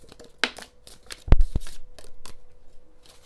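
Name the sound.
shuffling tea leaf oracle cards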